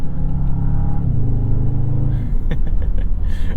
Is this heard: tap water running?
no